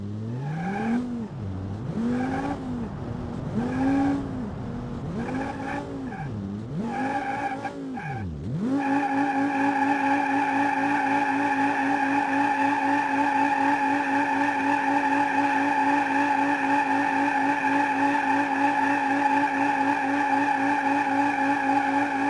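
An Audi Q7 3.0L turbo petrol engine in the BeamNG.drive video game runs a pull test: a few rising and falling revs with tyre squeal, then a long, steady, strained drone at high revs.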